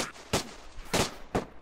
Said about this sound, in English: You shot me in the head.